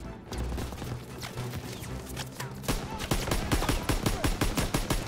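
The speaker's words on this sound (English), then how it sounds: "Gotta suppress the machine gun!" Rapid machine gun bursts and scattered gunfire ring out in a Call of Duty WW2 battle, loud and dense, the rounds firing in quick rhythmic volleys that grow steadier toward the end.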